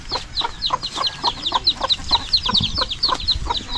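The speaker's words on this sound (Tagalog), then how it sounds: "Kuha na yung ating mga manok." Chickens cluck repeatedly and close by, short sharp calls in a quick irregular rhythm, one or two louder squawks among them, with no talk over them.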